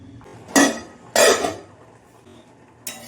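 A metal lid set onto a pot of dal simmering in water: two bright clanging clatters close together near the start, then a quieter clink at the end, with a low background hum between.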